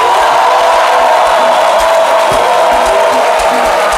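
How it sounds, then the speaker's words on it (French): A studio audience at a talk show applauds and cheers loudly and continuously, a dense roar of clapping with whoops and shouts that holds steady throughout. "à travers ces applaudissements du public"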